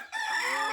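Farm chicken giving a single short, close call that trails off quickly, heard alone.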